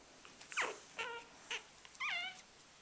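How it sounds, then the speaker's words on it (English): Young puppies whimper close by in a series of thin, high, wavering cries, four or five short squeals spaced across a few seconds, with no talking over them. "These are our puppies."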